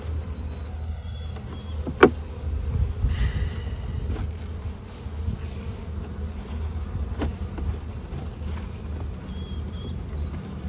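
A sparse colony of honeybees in a weak hive hums low and steady up close, with a couple of sharp knocks and some wind rumble across the microphone and no talking.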